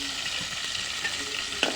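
Shing fish (stinging catfish) sizzling in a pan for a curry with gourd leaves, a steady broadband hiss with a brief louder crackle near the end and no talking.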